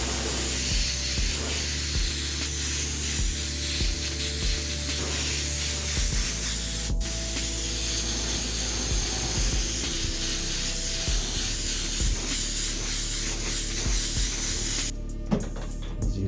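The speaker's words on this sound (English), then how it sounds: "I've kind of just sprayed it all evenly." Opaque black spray paint hisses from an aerosol can over a stencil in a long, loud, steady spray with brief pauses and a short break near the end.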